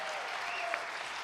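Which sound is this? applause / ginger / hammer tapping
applause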